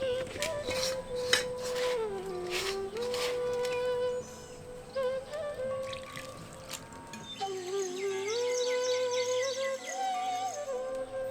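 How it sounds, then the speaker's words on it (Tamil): A spoon clinks against a bowl while gram flour and rice flour batter is mixed with water for boondi, giving repeated scraping taps and light sloshing under a steady tonal background with soft talk. "இதையும் கொஞ்சம் கொஞ்சமா தண்ணி சேர்த்து கட்டி இல்லாம மாவை கலக்கி"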